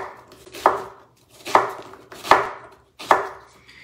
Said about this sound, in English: I'm not gonna cut these teeny tiny. I'm just gonna kind of quarter it.